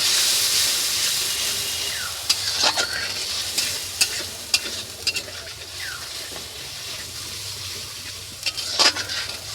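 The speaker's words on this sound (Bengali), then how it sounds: "এটাকেও ভালো করে নাড়াচাড়া করে মিশিয়ে নেব।" Yogurt and sugar are stirred into a katla fish curry simmering in a pan, a steady close sizzle and hiss under repeated scraping clinks of a spoon against the pan.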